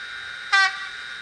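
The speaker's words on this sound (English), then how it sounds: "F13, which is a loco whistle" A Fleischmann 739377 model locomotive sounds its whistle function, a single short, bright, tonal toot that rises abruptly out of a quiet background and stops after about a fifth of a second.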